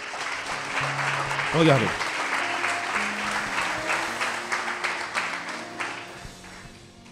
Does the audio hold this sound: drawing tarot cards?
no